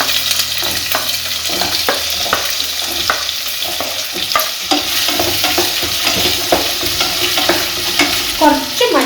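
Cut potatoes with turmeric frying in a pan for aloo methi sabjee: loud, continuous sizzling with repeated scraping and stirring knocks from a utensil against the pan.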